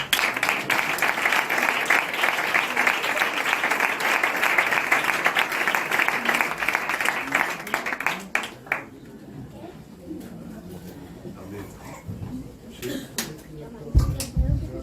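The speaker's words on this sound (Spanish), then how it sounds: "un aplauso a Jesús" Church congregation applauding together, a loud sustained burst of many hands for about eight seconds that then fades to a few scattered claps, followed by quieter room noise and some talking.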